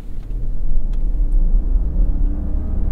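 A 2023 Land Rover Range Rover pulls away from a stop fairly hard, its deep engine rumble rising and holding steady, heard close from inside the cabin with no speech.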